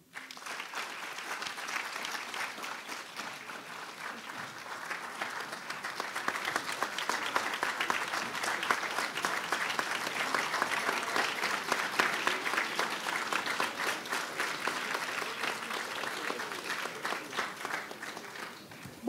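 Standing audience applause at a Founders Day convocation, a broad wash of clapping from a large crowd that starts moderately, swells and holds steady at a fuller level for many seconds.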